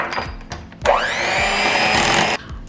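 An electric mixer beats maple blueberry muffin batter, its motor whirring up to a steady, fairly loud whine for about a second and a half before cutting off abruptly, with faint kitchen clatter before and after.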